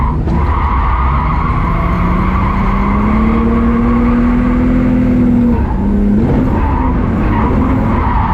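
A restored Nissan 240SX drift car slides with loud, sustained tire squeal and a rising engine drone, heard close from inside the car, with a brief break near the end before the squeal returns.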